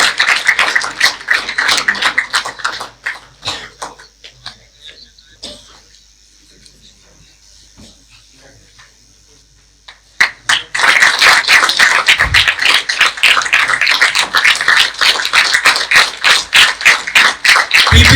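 Loud crowd applause for the top-ranked NCB sub-inspector cadets at a passing out ceremony at CAPT Bhopal, opening with clapping, dipping to a quiet stretch, then bursting back into dense, sustained clapping through to the end.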